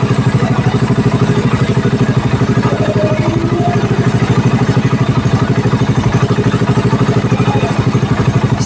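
A motorcycle fitted with an aftermarket power pipe exhaust idles steadily and loud, its rapid even thumping pulse holding without a break throughout.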